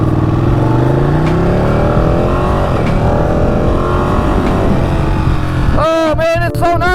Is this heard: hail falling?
no